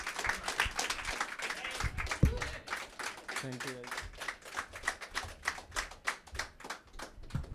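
An open mic audience gives enthusiastic applause for Shubham after his story, with dense clapping throughout, a brief spoken thanks, and a sharp thump near the middle.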